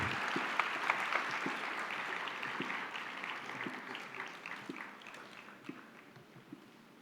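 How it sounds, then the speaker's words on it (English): An indoor audience at a formal session claps steadily for the chief guest, a dense, even patter of many hands that slowly thins and fades toward the end. "A round of applause for our chief guest, Shri Chandrakant Dada Patil."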